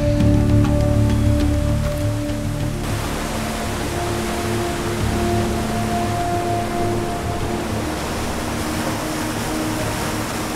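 A brown river in full flood rushes past in the wilderness, a loud, dense, unbroken roar of churning water that fills the whole clip alone.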